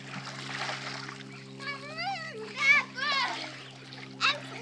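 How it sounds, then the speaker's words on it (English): A child splashes in water outdoors, bursts of splashing rising between children's voices and squeals, with a steady low hum underneath. "Whoa! Splashing."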